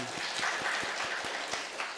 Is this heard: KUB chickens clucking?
no